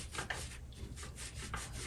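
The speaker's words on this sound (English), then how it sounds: "We're just polishing it up." Brass hammer connectors from a Rock-Ola 449 jukebox being polished, a soft rhythmic rubbing and scrubbing with faint strokes, close and quiet, without sandpaper.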